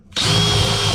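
A dull hole saw chucked in a power drill bores a pilot hole on a 1992 Arctic Cat Kitty Cat snowmobile, the motor kicking in abruptly and holding a steady, loud, close whine for the rest of the moment.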